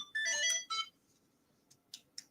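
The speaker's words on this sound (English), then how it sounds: "Sorry, phone's ringing." A mobile phone ringtone plays a short bright melodic burst, pauses, then sounds a few shorter chirping tones, fairly quiet and alone with no talking.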